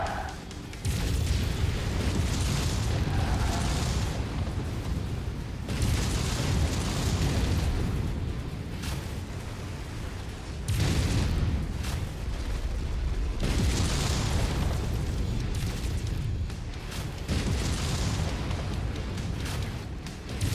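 Explosions roar through a MechWarrior 5: Mercenaries battle as a tank is blown apart, heavy rumbling booms rising and falling in several loud waves over sustained low-end combat noise, with no talking.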